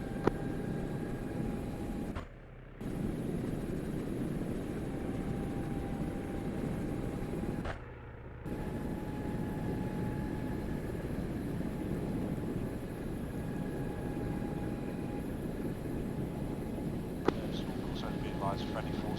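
An MH-60 helicopter in a video game makes a steady low pass, its rotor and engine drone holding loud and continuous, with two brief dips in level and radio-style voices over it.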